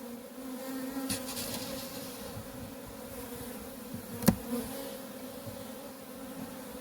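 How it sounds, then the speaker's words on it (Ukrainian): Dense humming buzz of many honey bees at an overwintering hive that holds two queens, steady and close, with a single bee zipping past loudly midway. "Ось така кількість бджіл на заставній."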